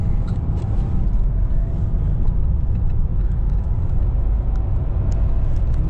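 Car engine on a manual performance-driving lesson, a steady loud low rumble of motor and road noise that holds evenly throughout, with no voices.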